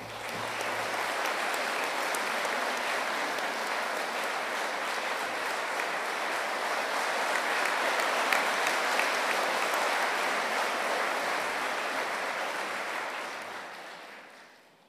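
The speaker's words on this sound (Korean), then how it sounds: "다시 한번 앞으로 나오실 때 여러분들 따뜻한 박수로 맞아주시길 바랍니다" An audience in a hall applauds at a university president's inauguration ceremony at Yonsei University. The dense, sustained clapping from a large crowd holds steady for about fourteen seconds and then dies away.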